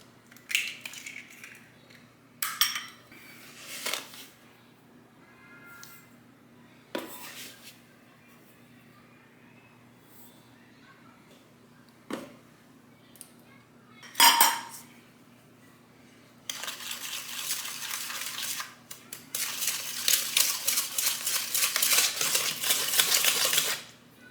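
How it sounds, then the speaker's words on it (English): Pumpkin being mixed with eggs in a bowl for pumpkin bread: scattered clinks and taps of a utensil against the bowl early on, then a sustained run of brisk, rapid whisking and scraping building louder toward the end. "I forgot to mix the pumpkin with the eggs and stuff, so I'm just gonna do that over here in this bowl"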